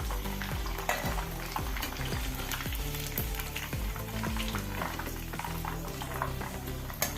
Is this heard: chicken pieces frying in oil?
yes